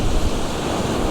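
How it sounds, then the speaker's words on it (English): Steady wind buffeting the microphone on the coast during cod fishing, a loud broad rushing roar with low rumbling gusts and no voices. "It is windy, but not as windy as it were yesterday."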